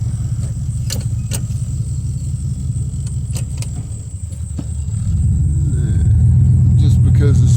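A farm utility vehicle shifted into four-wheel drive high rolls over wet pasture ground, its low engine rumble steady and close, then growing louder and heavier partway through with faint rattling on top.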